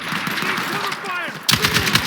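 Rapid automatic gunfire in the Battlefield video game, a sustained burst that grows sharper and louder partway through, with shouted voices over it.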